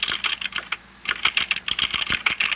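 Clacky keyboard switches typed rapidly in a Roblox keyboard game, a close, crisp run of keystrokes with a brief pause, heard alone.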